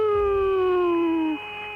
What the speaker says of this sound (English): You hear that? That whistling sound?